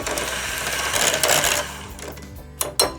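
An electric hand mixer whirs steadily as it beats cream cheese and sugar into a fluffy orange cheesecake mousse base, with a continuous motor hum and a few sharp knocks of the beaters against the bowl near the end.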